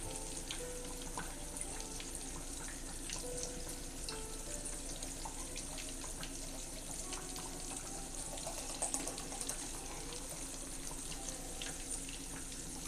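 Chicken sizzles and crackles steadily in hot frying oil, a dense, continuous hiss close by with small pops scattered throughout and no voices.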